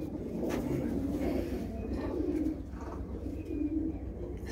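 Pigeons kept by a Punjabi fancier coo in soft, repeated low throaty phrases close by, with faint background chirps and a little distant noise.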